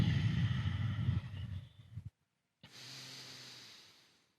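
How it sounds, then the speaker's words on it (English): Slow nasal breathing during a seated desk yoga hip stretch, a long rushing exhale fading out, a brief pause of silence, then a steady inhale drawn in through the nose, close and fairly loud with no talking. "Breathe in and out of your nose."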